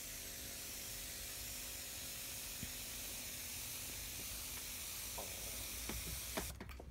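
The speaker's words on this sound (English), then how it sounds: "First, I'm going to spray some vapor." A Morphy Richards steam iron gives a steady hiss of spraying vapour, ending with a few soft clicks and bumps near the end.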